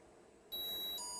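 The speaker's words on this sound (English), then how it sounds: "Oh, this is a timer." A kitchen timer starts beeping abruptly partway through, a steady high-pitched electronic tone that shifts pitch near the end, close and loud with no talk over it.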